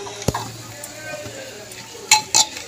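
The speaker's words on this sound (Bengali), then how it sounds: "এবার আমি এই যে আগে থেকে যে সবজি ভাজছিলাম কড়াইয়ের মধ্যে, তার মধ্যে আমি এটাকে দিয়ে নেব প্রথমে" Boiled dalia tipped into vegetables already frying in a kadai, with a steady sizzle under scraping and a few metallic clinks of a spoon against the pan, loudest in two quick knocks near the end.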